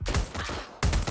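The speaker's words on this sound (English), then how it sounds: "Taking cover! Incoming fire!" Rapid bursts of gunfire in the Watch Dogs Legion video game, loud and dense, a sustained volley that dips briefly before another heavy burst resumes near the end.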